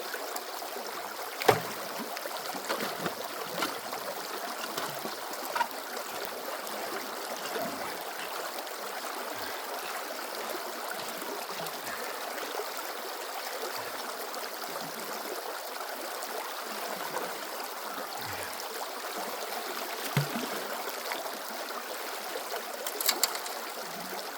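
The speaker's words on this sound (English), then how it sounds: "I love the sound of that water." Stream water flows and trickles steadily over rocks at a gold prospecting site outdoors, a continuous close babbling with a few faint knocks and splashes.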